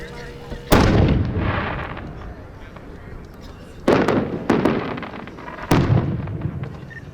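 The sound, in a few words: 10-inch cage pattern firework shell with reports exploding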